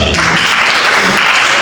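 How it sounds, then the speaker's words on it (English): An audience at a student association handover and inauguration ceremony claps steadily and loudly, a dense burst of applause filling the brief moment. "You clap as she's coming."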